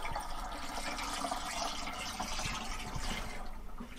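Coolant-type liquid is poured into the hydronic diesel heater system of a Sprinter/Crafter van conversion, a steady trickling, gurgling fill close by with no voices.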